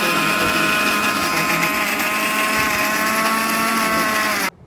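Electric grinder whirring as it grinds spice paste for cooking, a loud, steady high-pitched motor whine that runs unbroken and then cuts off abruptly.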